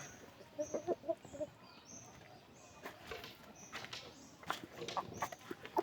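Heat-stricken breeder chickens in cages give faint, scattered clucks, a small cluster early and a few more later, with soft shuffling and background noise in between.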